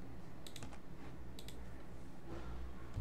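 A computer keyboard and mouse click in quick, scattered bursts at close range, with brief clusters of keystrokes over a low steady room hum, while selecting features in QGIS mapping software.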